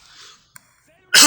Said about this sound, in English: I gotta cough